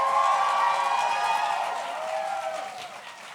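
An audience at a school declamation event applauds a student speaker, a broad wash of clapping and murmuring crowd noise that slowly fades as it goes on.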